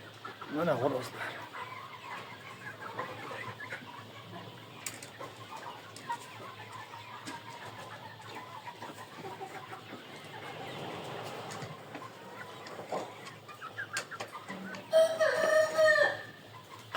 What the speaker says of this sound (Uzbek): Mana xo'rozlar.